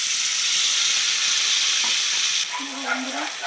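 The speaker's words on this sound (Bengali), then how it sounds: "ভালো করে কষিয়ে নেব আলু দিয়ে আর এই মশলা জল দিয়ে দিলাম একটু" Potatoes frying with spice paste as a splash of water goes in, a loud steady sizzle and hiss that drops slightly near the end, with faint stirring scrapes over it.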